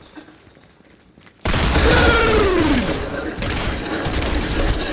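Dense, loud gunfire erupts in a multiplayer shooter video game after a quiet start, a continuous burst of rapid shots with a falling whistle-like tone, while players talk.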